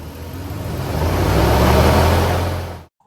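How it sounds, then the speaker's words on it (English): A car engine revved during an air-conditioning leak check, a steady close engine roar that swells over a second or two, holds, then cuts off, with no talking. "when I revved up the engine"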